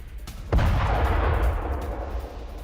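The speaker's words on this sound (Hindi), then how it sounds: "लेबनान के बेका में आईडीएफ की एयर स्ट्राइक का एक और वीडियो" A single heavy boom from an Israeli airstrike in Lebanon's Bekaa Valley hits sharply, then a deep rumble rolls on and fades slowly, loud and somewhat distant, with no voices.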